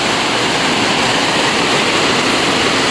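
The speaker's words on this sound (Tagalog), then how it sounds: "Maulan na. Simula na ng ulan." Rain in Daet has just begun and is already falling hard, a constant loud rushing hiss with no breaks and no voices.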